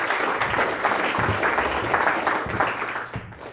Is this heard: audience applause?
yes